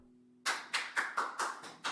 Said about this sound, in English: they did give her a round of applause